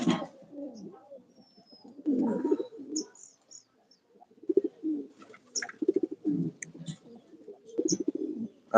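Pigeons coo close by on a morning at home, in short repeated bursts with pauses, the low throaty calls overlapping at times and ending in a brief louder call.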